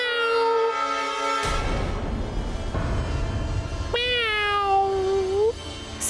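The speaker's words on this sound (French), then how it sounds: "C'est un chat." A cat meows twice, loud and close: a short call, then a long drawn-out wail, over a steady rumbling background.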